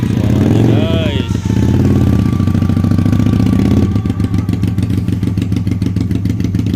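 A Napoleon Bob250 cruiser bobber motorcycle fitted with an aftermarket exhaust runs close by, a loud throbbing engine that blips higher early on and then settles into a steady pulsing idle.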